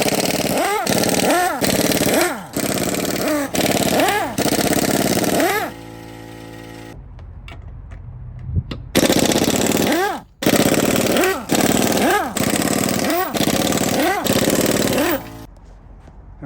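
An impact wrench powered by an air compressor rattles in repeated loud bursts, each a few seconds long, as it spins off lug nuts, with short pauses between runs.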